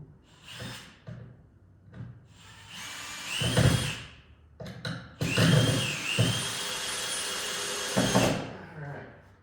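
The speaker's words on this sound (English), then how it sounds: "Got some pretty serious toe screwing going on." A power driver toe-screws framing screws into a wall's wood framing, giving several short bursts of motor whine that rise as each screw drives home, separated by pauses with bumps and handling clatter, close and moderately loud.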